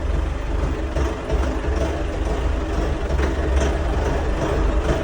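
A DongFeng 404 tractor's diesel engine runs steadily while the machine drives along, a loud, continuous low rumble with no pauses and no voices.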